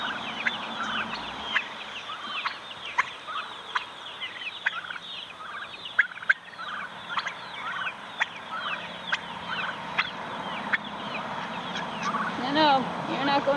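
Free-range turkeys gobble repeatedly among chickens outdoors, their bursts scattered across a busy background of clucking poultry, fairly close and lively.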